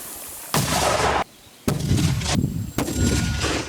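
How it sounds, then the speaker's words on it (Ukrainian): Heavy booming blasts from a mortar firing during artillery training, several thunderous reports in quick succession, loud and close, each leaving a rumbling wash of noise. "Міномет! Постріл!"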